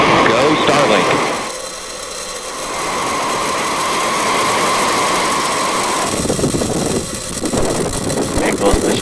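Falcon 9 rocket engines roaring at liftoff on a Starlink launch from a booster on its eleventh flight: a loud, continuous broadband rumble that dips briefly then swells again, steady and sustained throughout.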